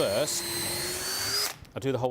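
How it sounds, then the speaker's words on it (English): A handheld power drill whines steadily for about a second and a half while boring holes in a craft workpiece before a heart shape is carved, loud and close, with a voice talking before and after the drilling. "So I'll do the holes first to make sure that your drill bit's not sliding around."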